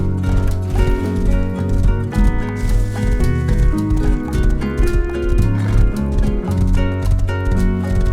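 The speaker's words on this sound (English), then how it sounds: "So I grabbed a horse and I made the long journey." Horse hooves gallop in a steady, rapid rhythm while riding across the map in the survival game Rust, with a whinny mixed in and a dense layered music bed running throughout at a constant level.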